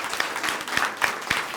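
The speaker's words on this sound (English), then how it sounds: "Let's give everyone a round of applause." Audience applause at a Murrieta 2019 Student of the Year event honoring sponsors, a short burst of dense clapping from a room full of people, steady and fairly close, with a few sharper claps standing out.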